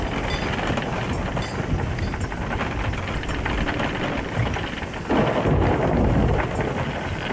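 Stormy weather in the pirate game Sea of Thieves: steady heavy rain and rumbling thunder roll on without pause, loud and dense, with a deeper swell of rumble near the end.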